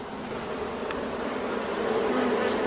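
A swarm of honeybees inside a dishwasher gives off a dense, continuous buzzing hum, steady and fairly close, with no talking over it.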